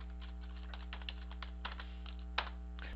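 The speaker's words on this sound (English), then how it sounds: "and I'm going to type in the word holiday." Quick, light keystrokes on a computer keyboard, a short irregular run of soft clicks over a faint steady electrical hum, with one slightly harder tap near the end.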